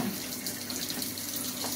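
A running kitchen tap pours steadily as hands are washed under it while making shortbread, a continuous close splashing hiss with no voices.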